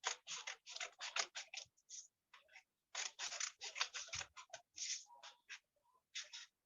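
Scissors snipping paper into strips for an origami flower, a quick run of close, crisp cuts in short bursts with brief pauses between them.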